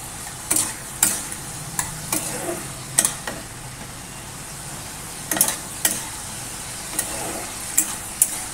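Potato chorchori with green chilli cooking in a pan, a quiet steady sizzle broken by sharp intermittent clinks and scrapes of a utensil against the metal.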